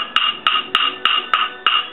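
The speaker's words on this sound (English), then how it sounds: "He's got his hammer." A child strikes a metal car body panel on a 1970 TR6 restoration with a hammer, giving six evenly spaced, ringing metallic blows, each with a short bright decay, close and alone.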